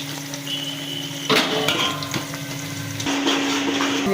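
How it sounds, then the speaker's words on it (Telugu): Onions and cashews frying in a pan for chicken dum biryani, a steady close sizzle with occasional clinks and stirring scrapes of a utensil against the pan. "ఇప్పుడు కొన్ని ఆనియన్స్, ఇవి బాగా వేగాలండి. ఇప్పుడు జీడిపప్పు యాడ్ చేసుకుందాం."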